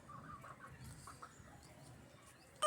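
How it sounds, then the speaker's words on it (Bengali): Chickens cluck in a backyard coop at a household, producing faint, soft, intermittent clucks and calls from a short distance against a quiet background. "এই যে ওখানে মুরগি চেঁচাচ্ছে এটা মুরগির ঘর"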